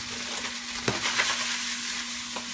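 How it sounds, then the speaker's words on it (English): Hibachi-style fried rice frying hard in a pan, a dense continuous sizzle with a couple of soft spatula taps, close and steady with no voice. "Get that rice to really fry"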